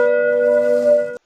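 A single clear bell-like notification chime rings loud and close, holding a steady ringing tone for about a second before cutting off abruptly.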